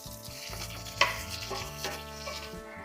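Chana dal and onions roast in a pan with a soft, continuous sizzle and faint stirring, quiet and close, with no talking.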